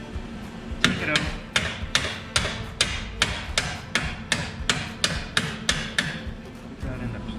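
Steady hammer blows drive a chisel on a utility trailer tongue, roughly fifteen sharp metallic strikes in an even rhythm, close and loud.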